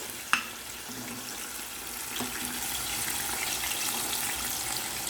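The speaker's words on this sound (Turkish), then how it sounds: "Biraz da bu şekilde kavuracağım ve ocağı kapatacağım." A chicken mixture with red pepper flakes and salt sizzles steadily in a pan, a soft continuous frying hiss with a sharp utensil clack near the start and a few faint scrapes after it.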